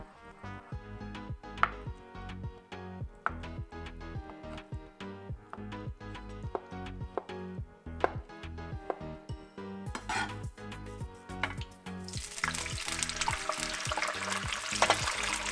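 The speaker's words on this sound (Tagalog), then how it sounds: "In-slice ko lang na small cube para madaling iluto." A knife slices firm tofu into small cubes on a board, with steady, rhythmic close cuts over ongoing background music. A louder sizzling hiss takes over near the end.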